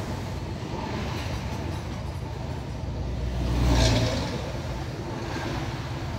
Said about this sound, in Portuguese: E eu tô só no primeiro estágio aqui do freio motor.